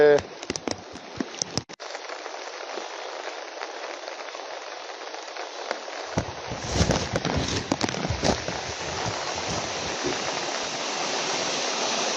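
Steady rain pours down over a flooded street in Karelibaug, Vadodara, a broad continuous hiss with brief louder splashes midway and scattered voices beneath.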